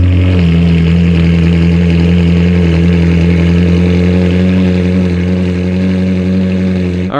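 A Ferrari 458 engine running steadily after fresh spark plugs, a loud, even idle hum with a smooth low drone and no misfire stumbles, alone throughout.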